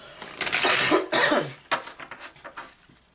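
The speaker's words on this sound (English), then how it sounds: "I have tried everything to try to stop this cough" A dry, hacking cough repeats in several harsh bursts, close and fairly loud, with short gaps between the fits and no talking.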